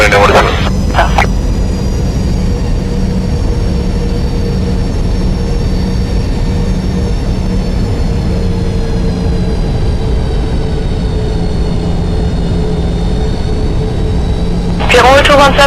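A Boeing 737-800 jet airliner takes off at Vienna Schwechat, a sustained loud engine roar with whining tones that holds steady throughout, with brief radio chatter at the start and end.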